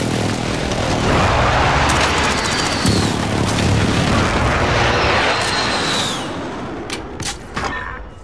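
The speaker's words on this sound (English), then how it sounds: "Friendly precision airstrike inbound." A precision airstrike in a video game sets off a dense run of heavy booms and rumbling blasts that rolls on for several seconds before easing off near the end.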